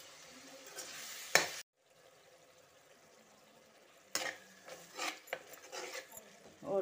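Tomatoes cook in a covered pan for matar biryani, giving a soft, faint sizzle with scraping stirs in two bursts separated by a quiet gap.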